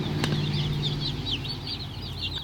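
Young Cornish cross meat chickens in an outdoor brooder on grass give a steady stream of high, rapid peeping chirps, close by, over a low background hum.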